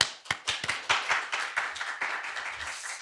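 Audience clapping at an academic lecture event honoring a pharmaceutical nanotechnology professor, a brief burst of sharp, close hand claps forming a short round of applause.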